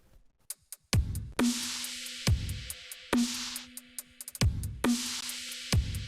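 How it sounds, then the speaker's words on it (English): A splashy, pitched-up synthesized hi-hat sample lands as a secondary hit on alternate snare beats in a future bass drop, crisp bursts repeating among punchy kicks and a low synth tone, loud and alone without voices. "And that is a hi-hat sample"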